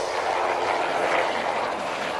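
A helicopter flies nearby, a steady broadband whirring roar that holds at an even loudness for a couple of seconds without voices.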